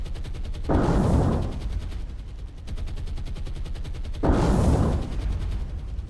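A light anti-aircraft battery in the naval combat game War On The Sea fires steady rapid bursts, a continuous rattling stream with two louder booming surges, no voices.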